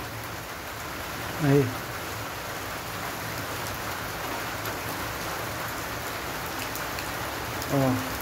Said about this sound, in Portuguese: Tá chovendo, ó.